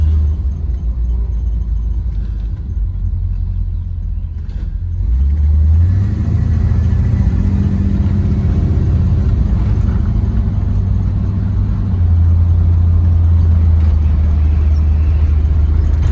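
A 1953 Chevrolet Suburban truck fitted with a 350 GM crate engine drives and accelerates, its low, steady engine rumble loud and close throughout, with the revs rising and settling as it pulls away and holds speed.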